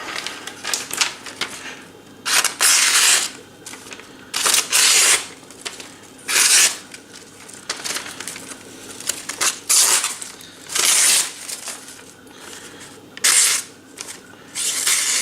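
A freshly sharpened knife edge, honed on sandstone, slices through a sheet of paper in a string of short, crisp rasping cuts, close and fairly loud, with quiet pauses between strokes.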